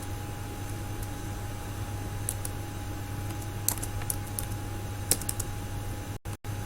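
A phone number being typed on a computer keyboard: soft, sparse key taps in small clusters over a steady low hum, ending in a couple of sharp clicks.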